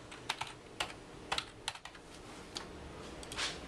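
Keys on a computer keyboard clatter as a code is typed, a few quick close taps in small irregular bursts over a low steady room hum, with no one speaking.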